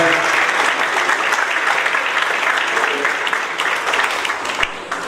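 Sustained, loud crowd clapping rolls on evenly for several seconds at a course workshop on commercial oral trials, a close, thick wash of hands with no talking over it.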